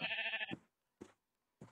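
Minecraft sheep bleating: one long wavering bleat followed by two short clipped bleats, clear and close with gaps of silence between.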